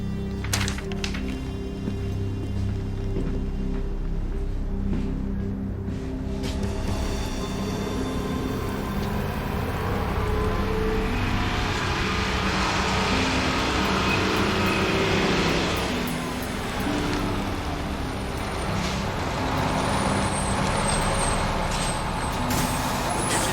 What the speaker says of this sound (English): Bus station.